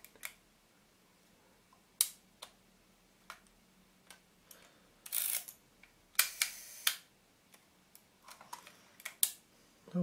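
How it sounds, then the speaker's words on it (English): A Rolleiflex 3.5F twin-lens camera with a Carl Zeiss 75mm f/3.5 lens gives a series of crisp mechanical clicks and short ratcheting bursts from its shutter mechanism, spaced irregularly and close up in a quiet room. "when pressing down the shutter button, this area here will move"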